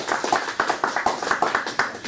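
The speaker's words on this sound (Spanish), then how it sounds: "pedimos un fuerte aplauso" An audience applauds at a gnostic lecture on Krishna, with brief rhythmic clapping that holds steady for a couple of seconds, fairly close and moderate in level.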